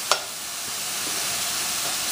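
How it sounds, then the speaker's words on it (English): Onions sautéing in a pan over a medium flame, a steady soft sizzle and hiss that holds evenly throughout after a brief sharp clink at the start. "on medium flame, the onions are cooking"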